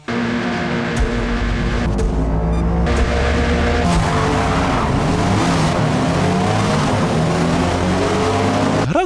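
Race cars in Forza Motorsport (2023) roar loudly and continuously, engines rising and falling as tyres scrub and skid, with no talking over the racing.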